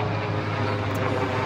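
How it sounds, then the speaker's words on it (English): Helicopter passing overhead, a steady loud droning engine and rotor roar that holds even throughout with no speech. "some chopper flying over."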